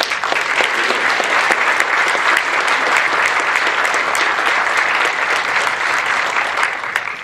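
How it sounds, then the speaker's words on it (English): An audience gives a standing round of applause at a business seminar, dense, loud, sustained clapping from a large crowd that continues evenly throughout and tapers slightly at the end. "we should give a standing round of applause to Bill and Allison"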